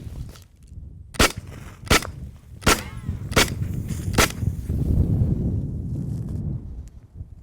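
A 92 FS pistol fired five times, each shot a sharp, loud crack spaced about a second apart, with a rumbling ambient wash in between and after.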